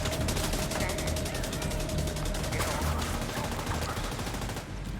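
Sustained automatic gunfire from the Heartbreaker gear set in Tom Clancy's The Division 2 video game, a steady fast rattle of shots that carries on without a break, loud and close.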